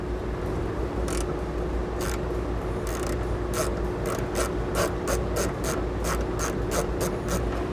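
A 10 mm socket ratchet turning to remove a nut on a vehicle wiring harness install, a steady series of crisp clicking ratchet strokes in quick rhythm, close and alone.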